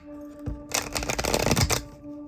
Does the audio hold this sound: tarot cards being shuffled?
yes